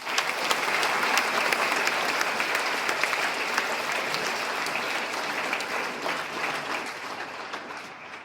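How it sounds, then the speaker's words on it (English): School valedictory ceremony audience giving a round of applause for the graduating batch of 2014: dense, sustained crowd clapping, steady and fairly distant, slowly tapering over about eight seconds. "may I request all of you to give a huge round of applause for the batch of 2014"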